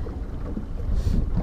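A fishing boat cruises slowly along a riverbank, giving a low rumbling hull and water wash with some wind buffeting on the microphone, steady and close.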